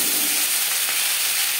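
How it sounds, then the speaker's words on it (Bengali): Bhola fish fries in a pan with a constant close hiss and sizzle of hot oil that stays even and unbroken, with no talking. "একটা সাইড ভাজা হয়ে গেলে অপর সাইডটা উল্টে দেবো"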